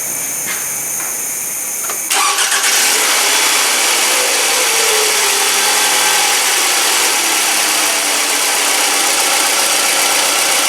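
A 2007 Scion tC with its battery warning light on, during alternator testing, cranks briefly and catches, then settles into a steady, close idle with a bright whine running over the hum.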